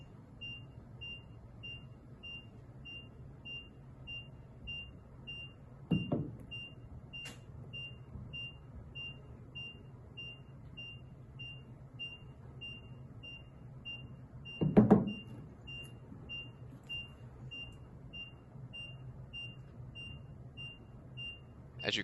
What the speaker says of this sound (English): the RFID reader is constantly beeping as it detects the tag